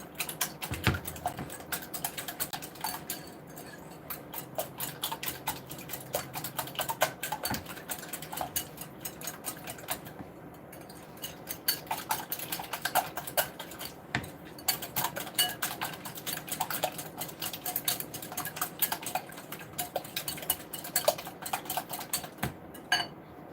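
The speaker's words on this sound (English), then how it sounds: "this morning I'm just going to whisk up some eggs" Eggs being whisked in a bowl for a breakfast casserole, a steady run of fast, light clicking and tapping strokes that keeps going with short pauses, close and fairly quiet.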